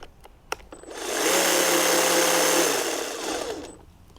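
A Stihl commercial pole hedge trimmer running at about 4,000 cuts per minute, a steady buzzing motor drone that starts up, holds, then winds down, close and loud with no talk.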